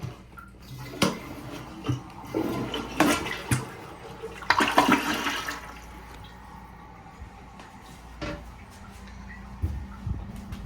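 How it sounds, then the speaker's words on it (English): An Aqua Source toilet in a Wildwood, New Jersey hotel room flushes with a clunk of the handle, a rushing swirl of water, then a quieter refill hiss with occasional knocks and drips. "It's an aqua source, which I guess we'll flush it."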